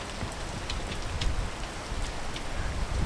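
Steady rain pours down outdoors in a constant broadband hiss with scattered droplet ticks, loud and close throughout, and no voices.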